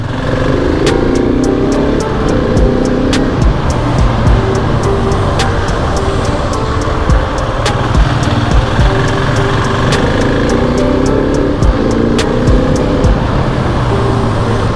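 A 2020 701 SM motorcycle rides through a low-ceilinged parking garage, its engine a loud, continuous close drone with enclosed reverberation and regular ticking clicks throughout.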